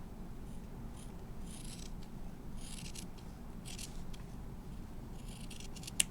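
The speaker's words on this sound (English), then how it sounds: "I can trim these corners off." Fabric scissors snip off the corners of a sewn bowl cozy in several short, quiet cuts, close up, with soft rustling between them and no speech.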